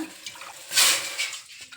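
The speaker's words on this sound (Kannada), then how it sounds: "ಈಗ ಒಂದು ಕಪ್ಪಿನ ಅಳತೆ ನಾವು ತೊಗೊಳ್ಬೇಕು ನೀರನ್ನ" Water poured from a cup into a pot on a gas stove, a short close splash and gurgle that swells in the middle and then trails off.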